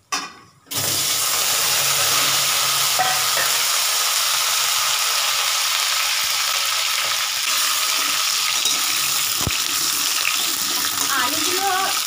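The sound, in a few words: carrots, potatoes and ash gourd added and stirred in hot pan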